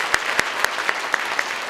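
Steady rhythmic clapping from a church congregation welcoming two visitors at a Sunday worship service, six crisp claps at an even pace that sound close and dense.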